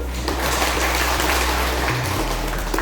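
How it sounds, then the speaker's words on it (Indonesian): Audience applause after a group's classroom presentation, steady dense clapping filling the room from start to finish, moderately loud with no talking over it. "kasih aplaus dulu"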